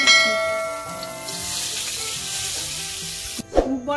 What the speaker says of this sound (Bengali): জল দিয়ে দিচ্ছি